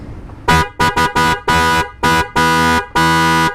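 A loud motorcycle horn honks in a run of short and long blasts, spaced by brief gaps, close by with nothing else around it.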